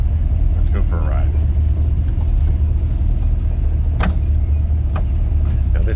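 A lowered 1968 Chevrolet C10 pickup with a 350 V8 and overdrive automatic drives along, its engine a steady low rumble with road noise, joined by a few clicks and someone talking over it.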